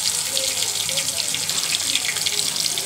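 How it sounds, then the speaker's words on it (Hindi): Fresh rohu fish pieces frying in hot oil in a pan, giving a steady, close, continuous hiss and sizzle throughout with no talking. "अब ये फ्राई होगा।"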